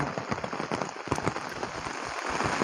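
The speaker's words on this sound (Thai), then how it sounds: "แต่วันนี้มาก็ ฝนตกครับฝนตกบรรยากาศฝนตก" Rain falls steadily at the Lam Phra Phloeng dam in Thailand, a dense, continuous patter of drops on surfaces with no one talking.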